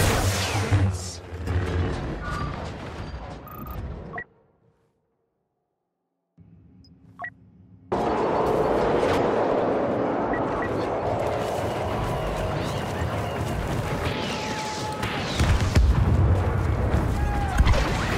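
Grenade blasts and battlefield combat in the Star Wars Battlefront II game, with dense bursts, booms and gunfire. Near the middle it cuts to silence, then comes back with a sharp pop and sustained heavy fighting noise.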